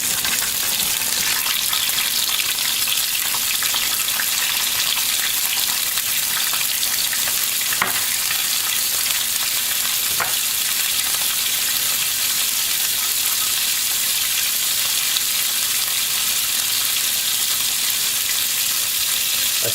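Salted, peppered asparagus stalks with garlic powder hiss in olive oil in a pan: an even, close, continuous crackle with a couple of faint clicks and no voices.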